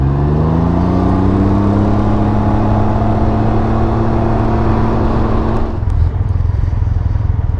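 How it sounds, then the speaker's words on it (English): A Peterbilt semi-truck rumbles close behind a rider on a Can-Am Ryker 900 Rally, its loud, steady engine drone and whine mixed with rushing wind, the tone shifting lower near the end. "that semi-truck's making some scary noises back there."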